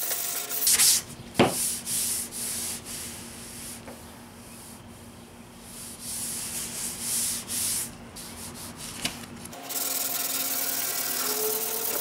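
Someone hand-sands body filler on an AE86 body panel with 220-grit paper, making steady back-and-forth scratchy rubbing strokes up close, with a brief pause before the strokes resume louder.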